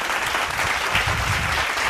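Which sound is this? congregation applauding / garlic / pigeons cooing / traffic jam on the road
congregation applauding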